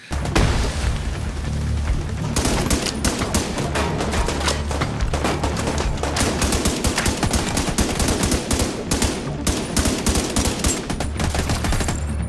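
Weapon gunfire in The Division 2 video game: dense, continuous bursts of automatic fire with heavy booms and sharp cracks, loud and near, running almost without pause.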